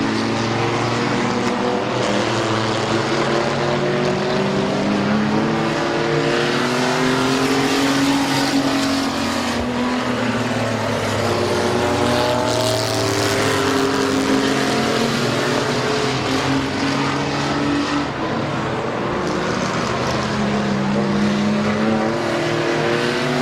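Race cars lapping Midvale Speedway, engines roaring continuously as several cars pass with rising and falling pitch, loud and close throughout.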